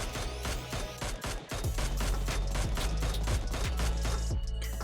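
Rapid automatic gunfire from a Mini 14 rifle in PUBG Mobile, a loud, close, steady string of shots cracking in quick rhythm for nearly five seconds with no pauses.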